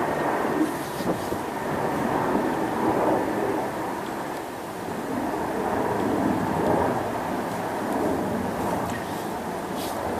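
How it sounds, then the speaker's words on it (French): An airplane passes by, a steady broad roar swelling and easing slightly across the whole stretch, fairly close and loud, with no talk over it. "Je vais laisser peut-être passer l'avion."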